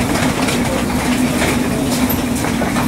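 London Underground tube train running on the rails, a loud continuous rumble with a steady droning tone and faint clickety-clack, heard close and without voices.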